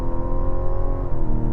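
Inside a 2026 Mazda CX-70, the inline-six engine accelerates with a steady, loud droning hum and rising harmonic tones, heard from the cabin with no voices.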